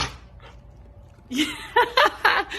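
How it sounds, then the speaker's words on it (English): An excited dog whimpers and pants close by: a quiet start, then a burst of breathy panting followed by three sharp whiny yelps in quick succession. "Our dog is excited that we're talking about the show."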